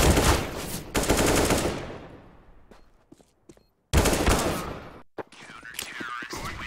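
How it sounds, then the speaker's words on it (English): Gunfire and a flashbang grenade in a Counter-Strike style shooter match, with a loud burst of rapid shots, a fade into near silence with scattered clicks, then another loud volley with a ringing tone. "Flashbang."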